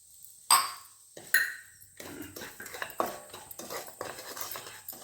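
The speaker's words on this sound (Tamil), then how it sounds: "இப்போ அதே நெய்யில் இந்த கோதுமை ரவையை போட்டு நல்லா வறுத்துக்கணும்." Wheat semolina roasted in ghee in a pan, stirred with a metal spoon: two sharp metallic clinks on the pan, then a run of repeated scraping and scratching strokes with faint sizzling, close and fairly loud.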